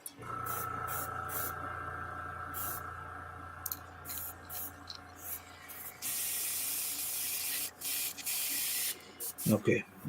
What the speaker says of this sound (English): Clean the airbrush out.